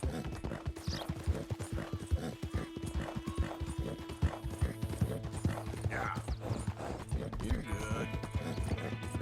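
Steady horse hooves clip-clop at a walking pace in the video game Red Dead Redemption, a Tobiano American Paint horse whinnying partway through, with talk faintly underneath.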